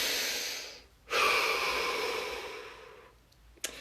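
A person draws one long, deep breath in, nearby and fairly loud, then breathes out slowly with a soft, fading hiss, and a short sniff or snort lands near the end.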